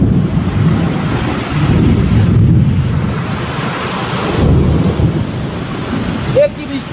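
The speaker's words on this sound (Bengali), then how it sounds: "কি বৃষ্টি!" Heavy rain pours steadily through a powerful thunderstorm, a loud, dense roar with wind buffeting the microphone and low rumbling swells throughout.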